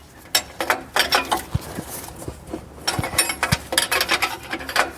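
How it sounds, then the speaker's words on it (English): A nut being tightened on the NOx sensor of a Mercedes Sprinter, with repeated ratcheting clicks and metallic scraping in irregular bursts, close and fairly loud, with no talking. "So I'm gonna keep going until that nut is tightened"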